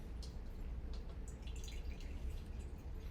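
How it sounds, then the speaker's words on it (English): Lemon juice is poured through a strainer into a measuring cup, giving a steady soft trickle with scattered faint drips, close by and low in level, with no talking. "I'm just going to pour this lemon juice through my strainer into my measuring cup."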